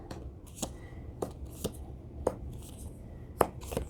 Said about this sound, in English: so let's pull your cards, and then we'll pull their cards